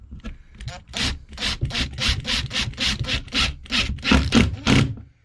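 Phillips screwdriver driving a self-drilling fixing into plasterboard, heard as a close series of about a dozen rhythmic, gritty rasping twists, one after another, each a short scrape.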